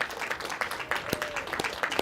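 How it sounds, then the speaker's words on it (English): Audience applause at an evening event for a guest, a light scattering of claps, moderately near and fairly sparse, with a voice faintly under it. "If we can give him a warm applause for Andrew."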